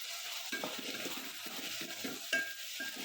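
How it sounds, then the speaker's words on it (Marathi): A spoon stirs pavta bean rice with coriander and lemon in a pan, giving soft, repeated scraping strokes in short bursts over a faint background hiss, with no talk. "आता हे एकसारखं परतायचं आहे"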